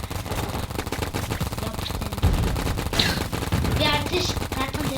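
Rapid automatic gunfire from a Roblox shooting game, loud and continuous, with dense crackling bursts that keep going for the whole stretch.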